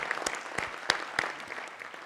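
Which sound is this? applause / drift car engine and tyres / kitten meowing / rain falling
applause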